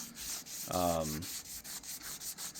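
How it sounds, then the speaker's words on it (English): Sandpaper rubbed by hand across a restored Datsun L24 engine part, a single brief scraping stroke of about half a second standing out against quiet background noise. "I'm going to be using various levels of sandpaper all the way down to crocus cloth"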